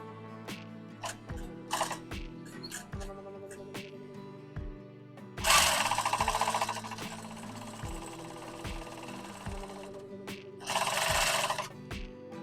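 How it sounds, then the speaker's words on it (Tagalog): A JUKI treadle sewing machine stitches in short rhythmic runs, with a rapid mechanical clatter. Two louder, busier bursts of fast sewing stand out among quieter ticks and pauses, heard up close with no voices. "Dahan-dahan lang po ang apak dito sa treadle niya. Para makontrolado nyo yung takbo ng pananahi."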